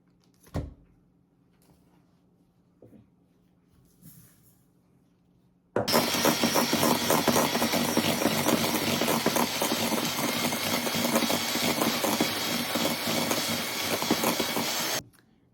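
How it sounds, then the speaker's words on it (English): An electric mixer whisks butter and sugar for a sticky date pudding, bursting on abruptly and running as a loud, steady whirring drone for about nine seconds before cutting off, after a few quiet clunks. "we're going to place the butter and the sugar in here and whisk until the sugar is light and fluffy"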